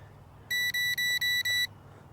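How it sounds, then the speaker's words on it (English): Five short, high-pitched electronic low-battery warning beeps from a KFPLAN KF 101 GPS camera drone, in quick even succession, clear and close over faint background hum. "it's probably a low battery beep"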